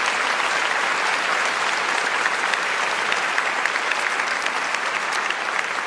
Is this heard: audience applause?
yes